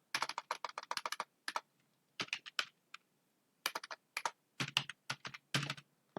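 Bursts of quick keystrokes on a computer keyboard while entering city abbreviations into an HTML form, short clusters of clicks separated by brief pauses, close and clear with no talking.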